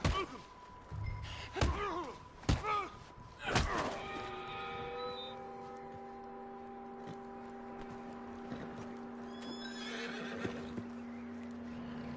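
A horse whinnies and snorts over thudding hooves in Red Dead Redemption 2, then a steady low hum and faint clip-clop continue in the background.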